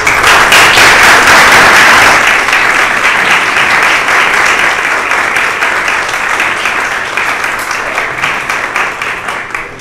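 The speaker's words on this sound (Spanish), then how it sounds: "A quien quiero que le demos un fuerte aplauso" An audience in a hall applauds a professor seated among them, a loud, dense wash of clapping that holds steady for about ten seconds and only slightly thins toward the end.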